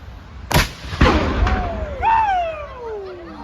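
A replica cannon fires at a festival with a sharp, loud blast, followed by a second boom and a fainter crack, then a long falling whistling tone that fades out.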